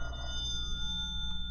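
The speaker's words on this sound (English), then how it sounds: "He was here maybe 2 hours when the phone rang." An old-time radio detective drama's telephone bell effect, a steady ringing tone that runs on without pause at a moderate level against a low hum, with no voices.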